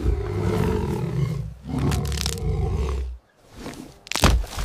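A lioness roars in bursts while fighting a porcupine, the loud growling roars coming close and rough, broken by a brief pause before a final sharp outburst.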